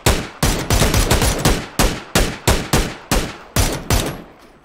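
Gunfire in a PUBG match on the Sanhok map: about a dozen loud, sharp shots in quick, fairly even succession, each ending in a short decaying tail, close and alone.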